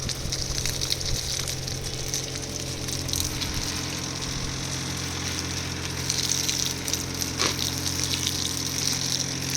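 Garden plants hosed with a strong pressurised water spray, continuous loud gushing hiss with a steady pump-like hum underneath, close and unbroken.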